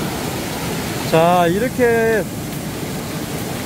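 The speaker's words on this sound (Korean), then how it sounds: "여기 폭포가 형성되고 이렇게 쭉 빠져 내려오면서 저 위에서 내려옵니다" A waterfall in Myungji valley gives off a steady, broad rush of falling water that fills the scene. Someone talks briefly over it.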